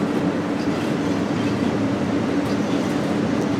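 A BNSF ES44C4 freight train in Train Sim World 3 climbs through Cajon Pass, giving a continuous loud diesel rumble and rolling rail noise with faint clicking, steady throughout and free of talk.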